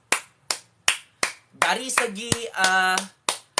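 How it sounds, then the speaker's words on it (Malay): A single pair of hands claps in a slow, steady rhythm of sharp, close claps, briefly interrupted by someone speaking before the clapping resumes. "Give applause. Aku bagi tepuk tangan lah."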